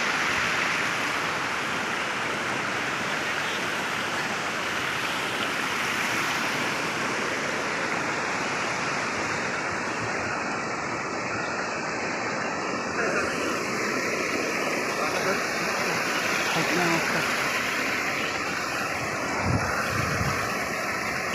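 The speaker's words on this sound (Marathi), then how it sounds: "आंबादास धबधबा, आंबादास धबधबा." Water rushing at Aadoshi waterfall near Khopoli: a steady, loud, broadband roar that holds without a break for over twenty seconds, with faint human sounds near the end.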